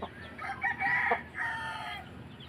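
Breeder gamecock crowing, two drawn-out calls in close succession, fairly near and loud with a faint outdoor background.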